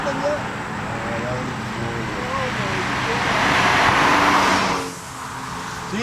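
A VW GLI with a big-turbo 1.8T engine accelerating, a loud rising roar that builds for several seconds then drops off, with people talking over it.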